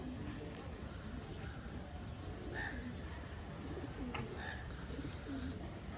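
Yellow-barred pigeons at a crowded bird market coo faintly in soft, scattered low calls under a dense, steady hum of background noise.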